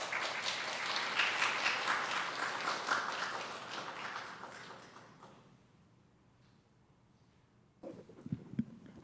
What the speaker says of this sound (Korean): 나오실 때 우리 큰 박수로 환영하도록 하겠습니다